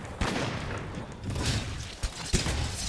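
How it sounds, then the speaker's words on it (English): A gunlance stake detonating in Monster Hunter World, muffled thumping booms and sharp bursts scattered over a rumbling backdrop, with several distinct impacts toward the end. "it'll tick for a bit and then it'll detonate like a grenade"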